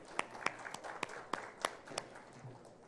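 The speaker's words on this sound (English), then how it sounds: "Ladies and gentlemen, let's give a big round of applause." Audience applause greeting a panelist as he joins the stage at an evening panel event on listening, heard as scattered, fairly sparse hand claps with distinct individual sharp slaps over a soft wash of clapping, moderate and close.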